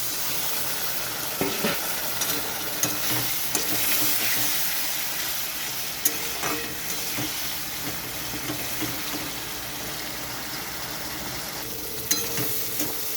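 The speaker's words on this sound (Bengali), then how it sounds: "এই মশলাতে খুব অল্প পরিমাণে একটু জল দিয়ে দেবো মশলাটা ভালো মতো কষানোর জন্য" Spice masala for a chang fish curry fries with a splash of water, a steady dense sizzle running throughout, broken by occasional clinks and scrapes of a stirring spoon.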